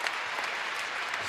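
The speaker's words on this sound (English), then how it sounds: "Give yourself a round of applause, young man." A gymnastics arena crowd at the 2012 London Olympic test event applauds a high score, steady dense clapping filling the whole moment at a moderate distance with no voices on top.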